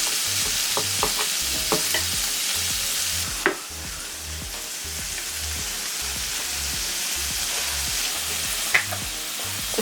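Prawns and bacon sizzle loudly in a frying pan, a dense steady hiss broken by scraping clicks of a spoon stirring and a couple of sharper knocks against the pan.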